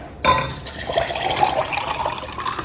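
Morir soñando, a milk and orange juice drink, is poured into a glass of shop ice, a sudden, close, continuous splashing pour with liquid sloshing and ice clinking.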